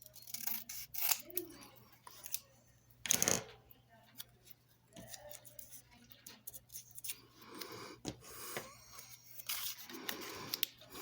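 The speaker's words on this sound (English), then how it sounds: "And now we're going to go ahead and get these trimmed down." Scissors snip through paper card pieces for a tuxedo fold card, giving quiet, irregular cuts and rustles mixed with soft handling noises in a calm room.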